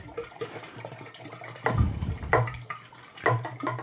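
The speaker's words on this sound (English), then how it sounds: "Give that a bit of a stir" Apple cider must in a fermenter being stirred after the yeast goes in, with wet swishing and sloshing surges every second or so, close and moderately loud, with no talk.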